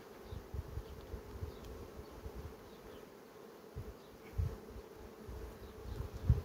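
A honeybee swarm droning near a hive, a dense low buzzing that rises and falls in irregular surges, steady and fairly faint, with no voices.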